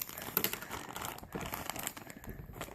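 Plastic packaging is being ripped and crinkled open, a continuous busy crackling that stays close and fairly loud from start to finish, with no voices over it.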